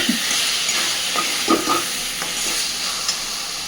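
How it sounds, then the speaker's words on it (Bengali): Spice paste and potatoes fry in oil for a rohu fish curry while being turned, producing a steady close sizzle broken by occasional scrapes and taps of the spatula, with no voices. "সুন্দরভাবে মশলাটা আলুর সাথে কষে নিয়েছি"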